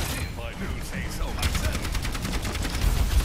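Gunfire in the video game Overwatch 2 crackles as rapid repeated shots, growing into a steady fast burst in the second half over in-game effects.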